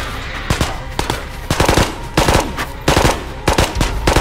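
Full-auto gunfire in the VR shooter Ghosts of Tabor: several sharp, loud automatic bursts of rapid shots separated by brief pauses, close and alone.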